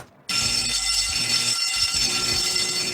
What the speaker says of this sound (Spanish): Oye, es la alarma de incendio.